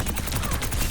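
Rapid gunfire from Orisa in Overwatch, a dense run of evenly spaced loud shots that fills the short moment without a break.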